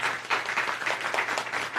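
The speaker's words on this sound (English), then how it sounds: "if we could give a round of applause to our panelists." A live audience applauds panelists at the close of a film festival panel discussion, dense steady clapping filling the room throughout at moderate loudness.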